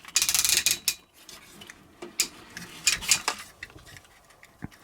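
The ratcheted joint of a TFC Tyrant robot figure is flexed by hand, giving quick close clicks in small clusters along with faint plastic handling noise.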